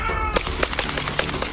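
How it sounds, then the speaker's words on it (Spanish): Multiple gunshots from a police shooting, a rapid series of sharp, loud cracks in close succession. "En el video se escuchan los múltiples disparos que dejaron gravemente herido al niño de 13 años."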